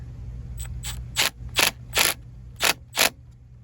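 A Milwaukee M12 stubby impact driver snugs a fitting on galvanized drain pipe, giving two faint light rattles followed by five loud, evenly spaced hammering bursts, close by, with no one talking.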